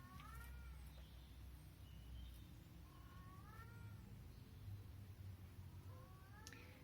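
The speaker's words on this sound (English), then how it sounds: "Can you hear my cat?" A semi-wild pet cat meows outdoors in a garden, four or five separate drawn-out calls spaced a second or two apart, fairly faint against a low steady background.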